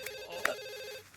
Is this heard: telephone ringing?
yes